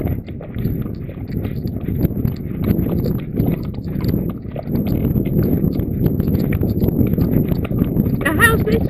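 Horse hooves clip-clop at a steady canter, a continuous rhythmic drumming close by with faint wind, continuing for the whole stretch without a break.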